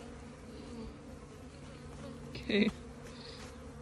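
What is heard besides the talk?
bees buzzing around a new hive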